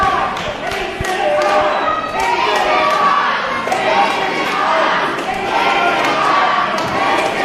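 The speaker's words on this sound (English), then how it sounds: "The crowd still behind Aces high." Wrestling match crowd cheering and shouting in an arena, a loud continuous roar with rising yells and scattered thuds from the ring, under a commentator talking.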